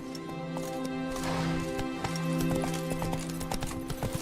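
Roach, the horse in The Witcher 3: Wild Hunt, gallops in Skellige with quick, rhythmic hoofbeats over a bed of sustained game music, close and moderately loud.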